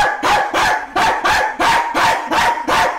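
A dog barks repeatedly in a steady, rapid series of loud, close yaps, about a dozen in a row with no pauses between bursts.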